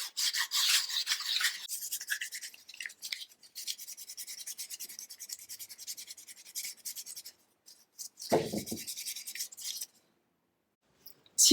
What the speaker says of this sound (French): Et je frotte l'intérieur.